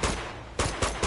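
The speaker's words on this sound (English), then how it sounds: "they should be arriving now that they heard gunshots" Gunfire in the Uncharted 2: Among Thieves video game, heard as a quick string of about four sharp shots in the Tumbling Temples level, fairly near and loud, with no talking.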